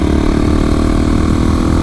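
A Bultaco Sherpa trials motorcycle engine runs close and loud, a steady throbbing idle with an even pulsing beat, alone with no talking.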